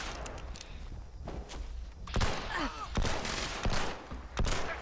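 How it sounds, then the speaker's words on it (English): Fallout 76 gunfire: distant automatic bursts rattle through the first seconds, then several sharp, loud close shots crack at irregular intervals. A faint tonal game sound sweeps briefly in the middle. "There's somebody up there throwing some serious ammo downwind."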